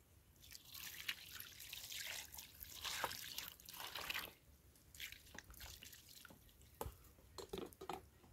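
Water running and dripping while raw chicken is washed, a steady trickle with scattered splashes and drips throughout, fairly close, no talk.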